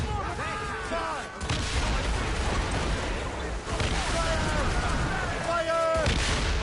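Ship cannons boom in a naval battle in Assassin's Creed Rogue Remastered, a dense, continuous barrage of loud blasts layered with battle noise and shouted voices, with brief dips between volleys.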